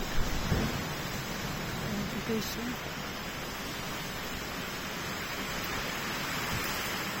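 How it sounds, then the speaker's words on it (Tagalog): Steady, dense rain hiss of a heavy August downpour with strong wind and thunder, a gusty rumble underneath, continuous and fairly loud throughout, with no voices. "Malakas ang hangin at dalugdog."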